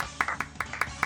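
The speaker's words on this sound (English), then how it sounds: "I'm clapping too" A handful of hand claps in a quick, even rhythm, about five or six close, sharp claps within a second, with a faint voice behind them.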